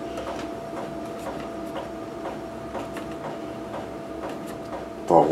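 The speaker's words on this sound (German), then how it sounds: "ich versuche, diese Schrauben zu lösen." Screws being loosened on an Explorer Spin GE 50 scooter: a close, regular series of light mechanical clicks, roughly two per second, like a ratchet, ending with a short louder rattle.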